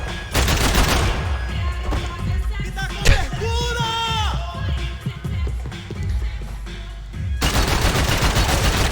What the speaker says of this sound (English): Max, how did you miss those shots